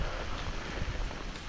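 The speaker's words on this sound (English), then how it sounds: "The real rain." Heavy rain pouring down on a coastal hiking trail during a thunderstorm, a dense, steady hiss of drops close around, with no voices.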